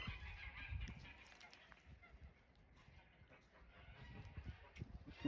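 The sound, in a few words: geese honking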